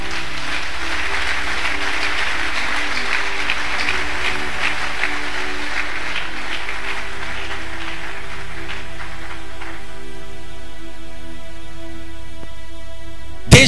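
A church convention audience applauds in a long, steady wash of clapping, with a sustained musical tone beneath it that carries on after the applause fades near the end.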